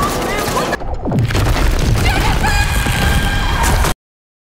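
A film gunshot blast shatters a layer of ice: one sudden heavy boom followed by a deep crashing rumble and crackling debris that runs on steadily for several seconds.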